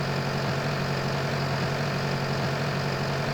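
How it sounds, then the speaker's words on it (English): A tractor engine pulling a plough in Farming Simulator 19, a constant loud, close diesel drone that stays even throughout without pauses or speech. "Good old tractor for an old girl, you know, so yeah, this is working really well"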